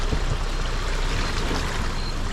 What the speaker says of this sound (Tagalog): Tawirin na natin yung ilog.